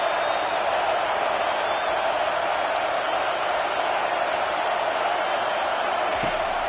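A home crowd in a college football video game roars steadily and loudly during a third-down defensive stand, a continuous wash of crowd noise with no clear breaks.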